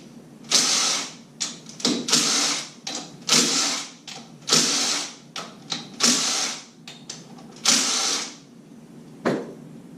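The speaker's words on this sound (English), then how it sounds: "Change your socket out to a 10mm socket to remove the 6 fasteners that clamp the clutch assembly" A ratchet with a 10mm socket cranks out clutch assembly fasteners during a Tubeworks 1000 watt alternator install, giving repeated bursts of clicking ratcheting strokes with short pauses between, close and fairly loud.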